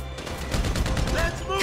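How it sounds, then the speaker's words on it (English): Grand Theft Auto V firefight with dense bursts of in-game gunfire over low booming rumble, steady and loud, with faint voices mixed beneath. "So I guess we're shooting our way out of here."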